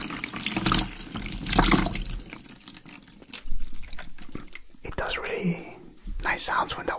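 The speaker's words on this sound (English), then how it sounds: "nice sounds when the water comes to the top" Tap water runs into a sink or basin during a hair wash, splashing in bursts and rising toward the brim, close to the mic, with soft whispering voices in between.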